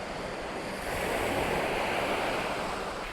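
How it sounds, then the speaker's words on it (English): Waves breaking steadily on the Lake Michigan shore near the Wisconsin border, a continuous broad surf wash that swells slightly louder midway, with light wind noise and no voices. "Waves are getting a little bit higher."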